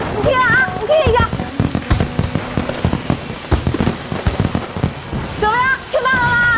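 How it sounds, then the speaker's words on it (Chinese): Fireworks going off outdoors at night, a dense run of loud cracks and pops throughout, with voices talking at the start and end over the bursts. "你能听到烟花声音吗？"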